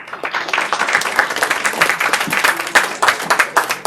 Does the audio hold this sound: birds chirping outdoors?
no